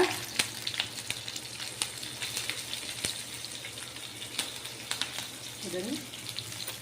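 Torn curry leaves hit hot oil in a pan, giving a steady close crackling sizzle with scattered pops and faint stirring, and a brief voice murmurs near the end.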